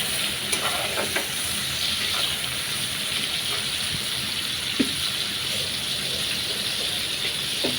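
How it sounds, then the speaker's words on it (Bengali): Chopped shrimp and onion fry together in a pan for a bottle gourd curry, making a constant close sizzle with faint stirring scrapes and no talk. "পেঁয়াজ আর চিংড়ি একসাথে ভেজে নিব"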